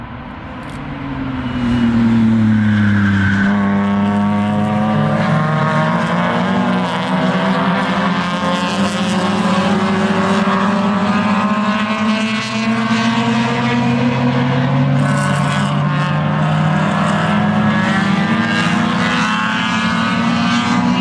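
Race cars, a Corvette among them, scream past at Mid Ohio during a GRID LIFE event, loud engines rising and shifting pitch as they accelerate and change gears, with several overlapping exhaust notes close by.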